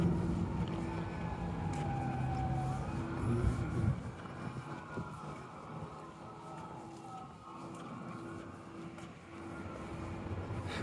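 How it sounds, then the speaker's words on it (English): Emergency vehicle sirens wailing through downtown city traffic during a walk, distant rising and falling tones over the dull roar of passing cars and a low engine rumble, with the traffic noise thinning after a few seconds. "I can hear sirens in several directions"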